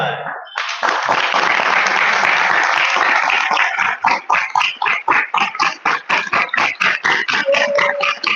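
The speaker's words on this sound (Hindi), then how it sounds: "इसलिए ताली बजा रहे कि दोबारा बोलो ना" An audience claps during a devotional talk, starting as a dense wash of applause and then settling into loud, even rhythmic clapping in unison, close and filling the room, with a faint voice briefly heard.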